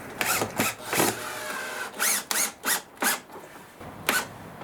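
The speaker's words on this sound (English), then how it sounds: "So I'm going to try running my trim head screw in through this second hole that I drilled." A power drill drives a trim head screw into a double-hung window frame. It sounds as a string of short motor bursts, about eight spurts in under five seconds, with pauses between them, heard close and fairly quiet.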